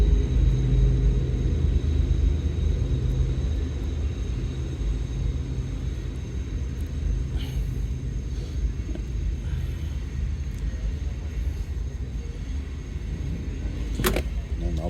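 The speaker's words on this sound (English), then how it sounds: "And I apologize for the train that is nearby in the background." A train rumbles nearby in the background, a steady low drone that holds level throughout with a faint sharp click near the end.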